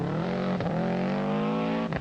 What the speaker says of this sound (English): engine note of the flat 4